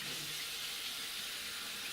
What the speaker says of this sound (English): To steam, put water in pot.